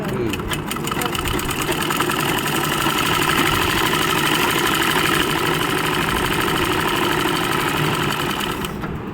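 A sewing machine stitches fabric with a loud, close, continuous rapid whirring clatter that keeps an even rhythm from start to finish.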